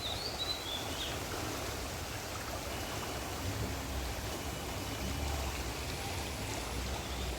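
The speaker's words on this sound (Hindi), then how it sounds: "खाली हल्की फुल्की बारिश हो रही है।" Light rain falls beside the swollen, fast-flowing Ganges in Haridwar, a steady, faint broadband hiss with no distinct drops, continuous and even throughout with no voices.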